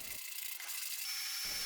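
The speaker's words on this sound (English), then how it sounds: "by tilting the sander I can remove some material until I have to resort to hand sanding." A power sander worked over the curved inward-bending wooden surface of a boat hull, a steady close abrasive hiss and rasp that holds level throughout with a faint tonal whine.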